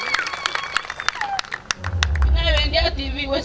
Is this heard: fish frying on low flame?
no